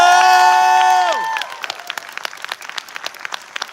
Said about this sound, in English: I need you to give him a round of applause for just a moment.